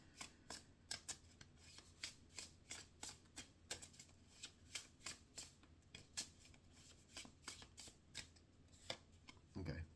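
Tarot cards are shuffled and drawn in a quiet room, giving a steady run of soft, crisp card snaps and riffles repeated close up across the whole stretch, with no clear speech over them.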